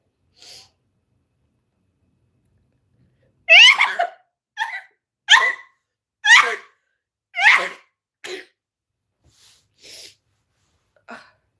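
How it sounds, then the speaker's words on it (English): Several loud, sharp sneezes close by, spaced out in a series of bursts with short gaps between them. "I sneezed."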